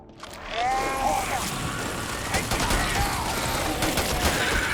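A newly acquired gun fires in the space role-playing game Starfield, with rapid bursts of shots crackling over a dense, steady din of combat noise.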